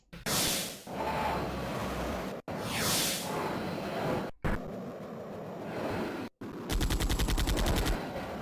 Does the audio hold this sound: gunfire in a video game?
yes